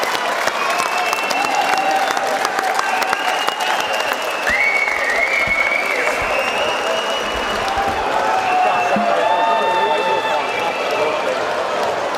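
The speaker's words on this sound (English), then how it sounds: "Standing ovation there by the crowd." A crowd gives a standing ovation after a charity boxing fight at a gym, with loud sustained applause and cheering throughout while commentators talk over the clapping.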